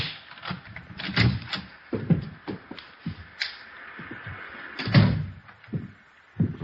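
A front door in an old radio drama is unlocked with a key and opened, heard as a string of close metallic rattles, clicks and thumps from the lock and handle, with no talk.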